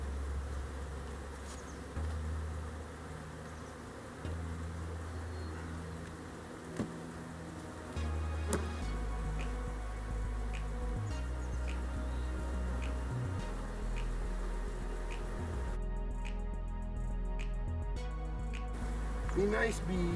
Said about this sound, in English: Be nice, bees.